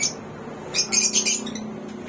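A few short, bright pet parrot squawks and chirps, close by, over a low steady hum in a quiet room.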